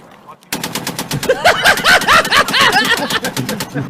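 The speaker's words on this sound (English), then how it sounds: "It's a machine gun!" Rapid machine gun fire rattles out in a fast, even burst of loud close shots lasting a few seconds, with a voice shouting over the shooting.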